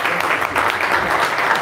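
Audience at a whisky tasting applauds in a short, dense burst of clapping that stays steady and fairly loud throughout.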